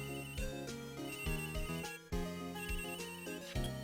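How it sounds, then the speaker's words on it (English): A video game telephone rings repeatedly in a bright, electronic melodic tone, looping without pause, in Phoenix Wright: Ace Attorney. "I think it keeps ringing until you click go."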